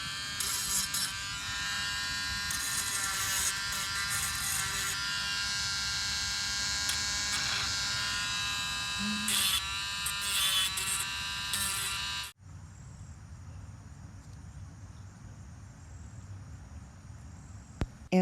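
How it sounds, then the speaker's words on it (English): A Dremel rotary grinder works on a pique assiette mosaic mailbox, whining at a steady high buzz close by for about twelve seconds before cutting out abruptly, leaving a quiet background hum. "I have my Dremel grinder here that I'm going to be using."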